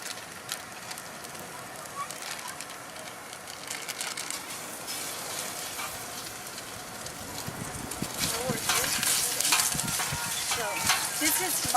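Mild Italian sausage hits a hot paella pan, sizzling and frying steadily. The crackle grows louder and brighter toward the end, with stirring scrapes mixed in.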